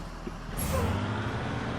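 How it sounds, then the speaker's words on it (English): In a video game, a short hiss of a bus loading brake releasing sounds over a steady idling bus engine rumble. "then we're going to hit our loading brake release"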